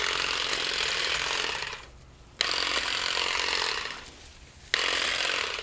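A cordless hedge trimmer cuts through branches about 1/4 to 3/8 inch thick with a steady, loud buzzing drone. The drone drops away briefly twice and comes back, with no talk over it.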